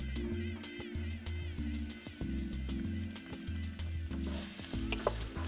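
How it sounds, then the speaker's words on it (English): Onions go into hot olive oil in a pan for linguine puttanesca. A quiet, steady sizzle fills the clip close up, with low hum underneath, a few light clicks and no talk. "first we're gonna add our onions"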